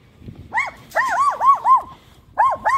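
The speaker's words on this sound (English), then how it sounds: "Small dog." A small dog barks repeatedly in short, sharp bursts, close and loud, with a brief pause before a final pair of yaps.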